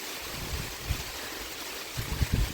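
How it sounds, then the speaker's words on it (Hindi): Heavy rain pours down in a steady, fairly faint hiss, with a few dull low thumps rising through it near the end. "बड़ी तेज़ बारिश आ गई।"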